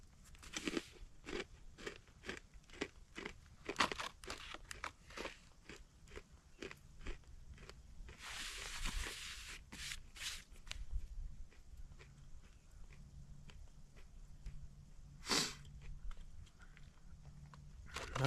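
Crunchy honey mustard and onion crackers from an MRE being bitten and chewed, sharp crisp crunches in an irregular rhythm, close and fairly quiet, with a rustle of packaging midway.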